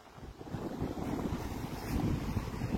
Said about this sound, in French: Il y a un peu de vagues.